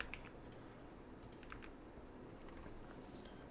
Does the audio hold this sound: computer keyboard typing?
yes